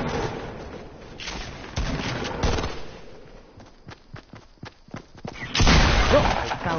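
Gunfire in the Fortnite video game: a scattered series of sharp single shots and short bursts, some loud and near, with a player speaking between and over them.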